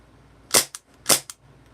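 An airsoft Mac 11 replica fires two sharp single shots about half a second apart, each a crisp close snap followed by a quick mechanical click of the open-bolt action.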